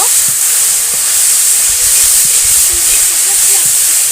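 Onions and chilies hit hot oil in a village kitchen while cooking banana blossom, giving a steady, loud hiss and sizzle that runs throughout with faint crackles.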